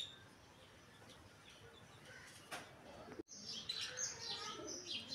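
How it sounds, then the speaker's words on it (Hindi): Pigeons call in the open, with soft cooing and chirpy notes coming clearer and busier after a brief gap partway through, over light background noise. "कबूतरों की आवाज़ें आ रही हैं"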